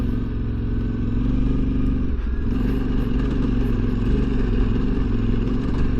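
Yamaha Tenere adventure motorcycle ridden standing up in second gear: a loud, steady close engine drone with a low rumbling note and a brief dip in pitch midway.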